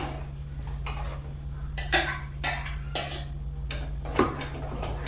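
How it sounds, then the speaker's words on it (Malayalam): A spoon clinks and scrapes against a pan while moru curry is stirred, several distinct metallic knocks and scrapes spaced irregularly over a steady low hum. "നന്നായിട്ടൊന്ന് ഇളക്കി കൊടുക്കുക"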